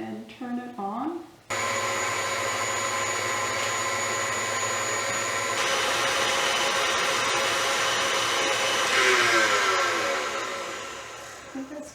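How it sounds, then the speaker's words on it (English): A stand mixer motor starts up and runs steadily, mixing mooncake dough made with lye water, a loud sustained whine with strong harmonic tones that shifts slightly in pitch, after a moment of speech at the start. "I don't use this mixer very often"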